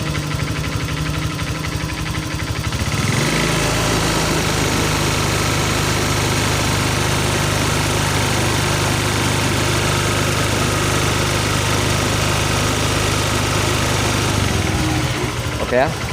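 A Honda Vario 125/150 scooter engine, checked for radiator coolant circulation, idles close by and then is revved into a loud, sustained drone that drops back toward idle at the end.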